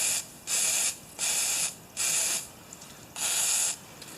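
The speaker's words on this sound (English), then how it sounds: "I'm going to spray it with some WD-40." WD-40 is sprayed onto a broken exhaust manifold collector stud in four short, sharp hissing bursts, each about half a second long, with brief pauses between them. The sound is close and clear, with no talking.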